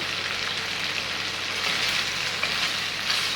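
Meat for a garlic pot kebab sizzles steadily in a pot, a dense, even frying hiss that holds at a constant level throughout without pause.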